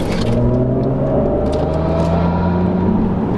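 Mercedes sedan V8 engine while driving, a steady close cabin drone with smooth rising engine tones under constant road rumble, no talking.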